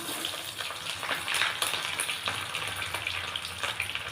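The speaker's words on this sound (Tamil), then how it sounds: "பொடி உள்ளி போட்டுக்கலாம்." Chopped garlic fries in hot oil with a steady, close crackling sizzle and occasional stirring scrapes.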